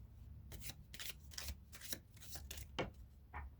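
Tarot cards being shuffled, a quick series of soft riffling, slapping bursts, close and fairly quiet.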